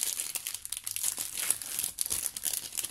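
Paper crinkling and light tearing as a mail envelope is opened by hand, close and quiet, in irregular bursts of rustling.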